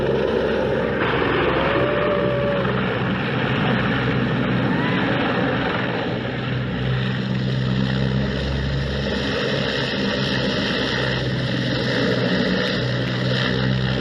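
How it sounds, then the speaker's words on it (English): A helicopter struggling to lift off near a crowded spot gives a continuous loud rotor and engine roar, with a steady drone and a faint whine under the churning noise throughout. "This helicopter struggled to take off near a crowded place and nearly hit some people."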